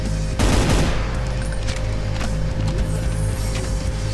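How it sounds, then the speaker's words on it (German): Gunfire in Brutal Doom on FreeDoom II: a loud burst of rapid shots near the start, followed by scattered sharper cracks over a steady low engine-like drone. "Die wird scharf geschossen"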